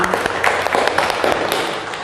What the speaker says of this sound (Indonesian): Jadi tepuk tangan dulu untuk kalian semua